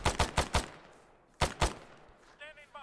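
Rapid bursts of gunfire in a video game firefight, a quick string of four loud shots followed by two more after a pause, with a faint tonal effect trailing at the end.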